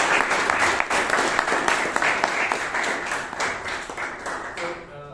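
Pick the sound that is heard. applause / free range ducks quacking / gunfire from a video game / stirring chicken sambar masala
applause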